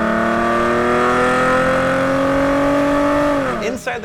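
A 2011-2014 Ford Mustang V6 with a Borla Stinger S-Type axle-back exhaust revving hard, a loud, close, sustained droning engine note that climbs gradually then drops sharply near the end.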